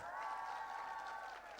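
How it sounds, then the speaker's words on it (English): Audience at a dental students' scientific symposium quiz clapping for both teams, a soft, moderately sized round of applause with a steady patter that thins slightly toward the end, accompanied by a faint sustained tone. "So a round of applause to both the teams."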